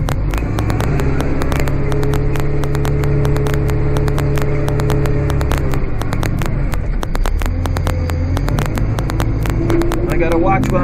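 Vehicle engine idling and rumbling steadily while it backs up with a snowblower attached, close and loud, with rapid clicking and crackling throughout and someone talking over it.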